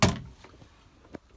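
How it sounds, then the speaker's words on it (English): A small drawer in the kitchen unit of a 1991 Gobur Carousel 12/2 TD folding caravan slides open with a short, close scrape and knock, followed by a faint rattle and a second brief clack. "in here, there's a little drawer where you can put a cutlery tray"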